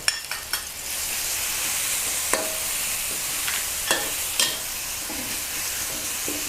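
Pounded chili and garlic stir-frying in a little oil for a glass-noodle, minced pork and basil dish: a loud, continuous close-up sizzle with scattered sharp scrapes and taps of a utensil stirring the pan.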